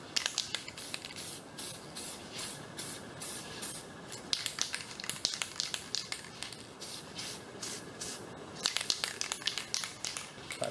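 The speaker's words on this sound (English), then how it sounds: "We can spray along the sides real nice, real even, then we'll go over the top." Aerosol spray paint applied to car foglights in a light mist coat, a series of short hissing bursts in a steady rhythm with brief pauses, close and clear.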